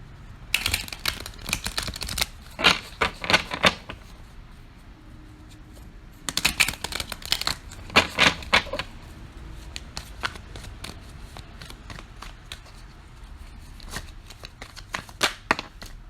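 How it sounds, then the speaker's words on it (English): Tarot cards being shuffled in several quick riffling bursts, crisp rapid flutters separated by short pauses, close up with no voices. "I actually want to shuffle these a little bit."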